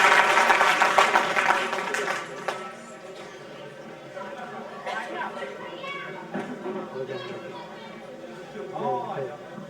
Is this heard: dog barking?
no